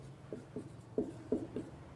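Marker or chalk writing on a board during a Hindi grammar lesson: a few short squeaky strokes in an uneven rhythm, close and fairly soft over a low steady hum.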